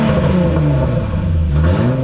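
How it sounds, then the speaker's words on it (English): A Holden VS Commodore ute with an exploded rear muffler drones loudly and steadily up close, its deep, rough exhaust note held at an even rev throughout. "we have a whole muffler that's exploded at the back"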